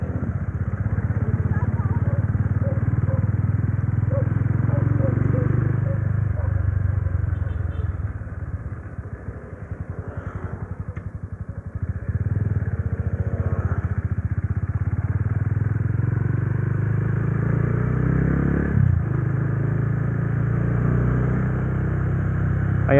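A Rusi Classic 250 motorcycle with a bassy aftermarket exhaust rumbles steadily with a deep tone, low and continuous for the whole stretch, with a brief dip and some clatter midway.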